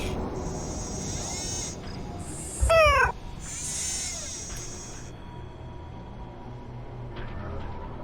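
Robotic cat in the Nancy Drew game Shadow at the Water's Edge gives a couple of synthetic meows with a steady high electronic hum, one sharp chirping burst in the middle, fairly faint overall.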